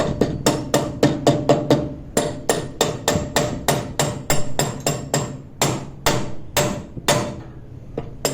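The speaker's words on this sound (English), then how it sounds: "So you take a hammer and little bit hammer it so that you know it tightly grabs over the coupling." A hammer strikes a binding on a fire hose, tightening it over the metal coupling: over twenty sharp, ringing blows in quick uneven bursts with brief pauses, close and loud.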